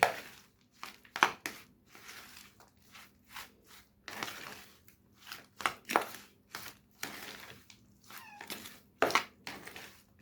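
Chicken pieces are worked by hand with ginger-garlic paste, salt and black pepper, giving close, irregular wet squelches and crinkly rustles in short bursts with quiet gaps, and no voices.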